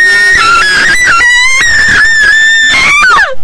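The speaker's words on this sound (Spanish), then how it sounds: "El grito alerta a los animatrónicos" A loud, sustained scream in a Five Nights at Arlequina horror game, shrill and wavering with pitch slides and brief breaks, continuing for several seconds before trailing off.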